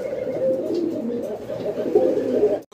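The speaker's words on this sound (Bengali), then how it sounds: "খুব সুন্দর এক জোড়া কাগজি কবুতর, নর মাদি" A pair of kagoji pigeons, male and female, coo close by in low, throaty, rolling calls that repeat without pause.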